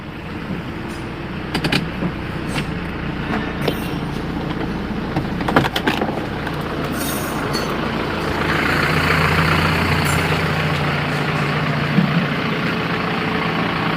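A diesel Isuzu Panther engine idles steadily after an engine overhaul, a continuous low rumble with a constant drone and a few brief knocks and clicks over it. The idle holds throughout with no talk.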